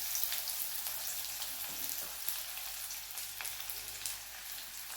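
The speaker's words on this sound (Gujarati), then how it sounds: "રાઈ અને જીરું આપણા તતડી ગયા છે, તો મેં એક મીડિયમ સાઇઝની સમારેલી ડુંગળી એડ કરીશું।" Chopped medium onion added to hot oil with popped mustard seeds and cumin, giving a dense, continuous frying sizzle with bright crackle throughout and no voices.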